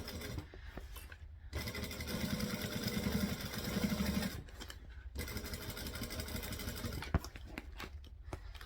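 A sewing machine stitches fabric with a fast, even mechanical whirr in bursts of a few seconds, stopping briefly between runs, close and moderately loud.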